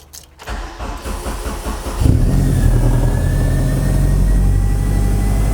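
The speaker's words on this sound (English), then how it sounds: "if we start the car, it is quite loud" A Honda Civic EP3 engine cranks briefly, catches and starts loudly, then settles into a steady, close, rumbling idle.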